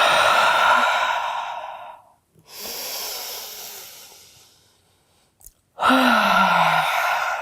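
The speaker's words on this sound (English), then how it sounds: "So you're going to inhale through your nose and take a big exhale out your mouth" Deep exhales through the mouth during yoga breathing: two long, loud, close breathy sighs, with a softer drawn-out breath between them. No talk.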